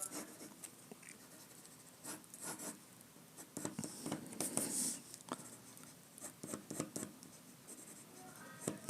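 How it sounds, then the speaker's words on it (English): A pencil sketches a figure on paper in short scratchy strokes and quick scribbles, close and quiet, with irregular pauses between marks. "draw that midpoint."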